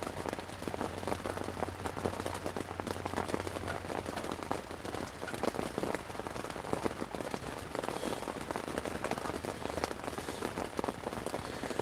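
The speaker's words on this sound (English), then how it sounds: "The rain is keeping people away, and I don't mind the rain." Rain falls on a waterproofed tent at night, a dense, steady patter of drops drumming on the fabric overhead, close and even for the whole stretch, with a faint low hum early on.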